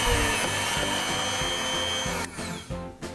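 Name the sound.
drill press drilling a plate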